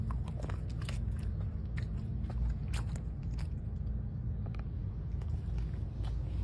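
Dogs chewing and crunching treats aboard a dog bus, with steady close mastication and bites over a constant low engine rumble, no talking.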